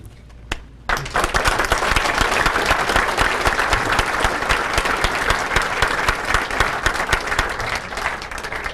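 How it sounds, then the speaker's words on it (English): Banquet guests at a sports hall of fame dinner break into applause after a brief quiet moment, a loud, full burst of many hands clapping that stays strong and steady throughout. "I want to give a great round of applause to Dave."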